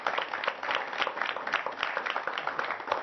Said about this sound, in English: You guys give them a big round of applause for hosting today.